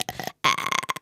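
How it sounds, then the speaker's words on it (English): A burp, or a string of small dinosaur-like burps: one short croaky belch, a brief silence, then a longer rumbling gurgle, loud and close with nothing else heard. "Little dinosaur burps."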